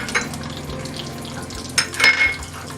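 Mustard seeds with urad and chana dal temper in hot oil for coconut chutney, a soft crackle and sizzle close by, with a few sharper pops and clinks of a pan in a brief kitchen moment.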